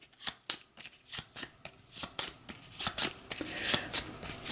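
Game cards being shuffled for a board game setup, a run of crisp riffling bursts in steady rhythm, close and clear with no talking.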